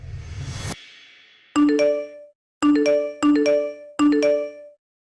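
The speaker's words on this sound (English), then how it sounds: "Your notifications don't stop." A smartphone chimes with a string of notification alerts: a short rushing swell, then four bright, identical ding tones in quick succession, loud and close with nothing else around them.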